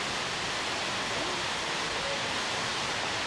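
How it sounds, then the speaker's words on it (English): Steady, full-band rushing of a waterfall in Baños, Ecuador, constant and fairly close across a street, with no other sounds standing out. "And right across the street from our room, a waterfall."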